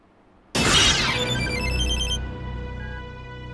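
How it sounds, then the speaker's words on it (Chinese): A mobile phone starts ringing abruptly after a short silence, a loud, bright electronic chime that rings out and then fades into a sustained tone. No voices. "你嘅电话响"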